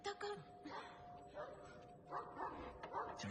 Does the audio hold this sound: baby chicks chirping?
no